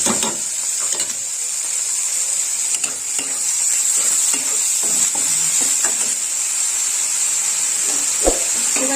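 Dried red chillies sizzle steadily in hot oil as a tempering for a cabbage-and-yogurt dish, a loud continuous frying hiss with occasional stirring scrapes and pops, close up.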